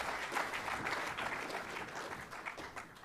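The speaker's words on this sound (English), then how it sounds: "Who need a round of applause, please," Audience at an awards night for a junior football league giving a round of applause, a steady wash of clapping from many hands, fairly distant and even for a few seconds.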